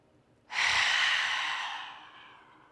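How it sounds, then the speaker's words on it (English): A single forceful lion's breath exhalation during yoga, tongue out: one long, loud, close breath pushed out through the open mouth, rising sharply and then fading slowly over about two seconds. "Big obnoxious breath out for lion's breath."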